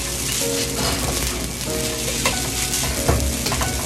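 Cooked rice and egg fry together in a hot pan for spicy Thai shrimp fried rice, giving a dense, close sizzle with occasional stirring scrapes.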